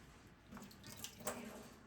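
Water poured out of a tofu press, a soft, close trickle and splash that swells slightly in the middle with a few brief drips, moderately quiet throughout.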